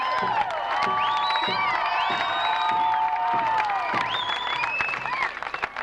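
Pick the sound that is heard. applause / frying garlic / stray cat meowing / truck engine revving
applause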